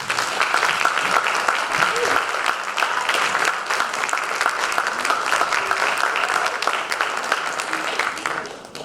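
Dense applause fills a storytelling night audience, a sustained wash of many hands clapping at steady loudness for several seconds before tapering slightly at the end.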